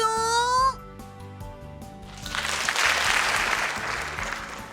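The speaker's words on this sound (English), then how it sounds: "I hear applause and flower petals begin to fall." A musical tone fades out and warm applause swells up in the video game Cupid Parasite, a crowd clapping steadily and filling the end of the clip.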